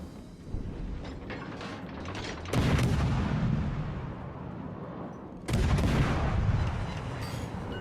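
Warship main guns fire in World of Warships: Legends, two heavy booming salvos a few seconds apart, each followed by a long rumbling decay over mechanical turret clatter.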